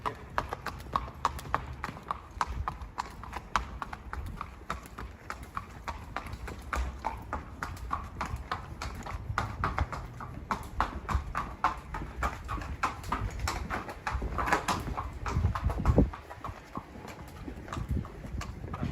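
Horse hooves clip-clop steadily in a trotting rhythm along a hard runway during a farrier session on flat feet and thin soles, close and continuous with a faint voice in the background.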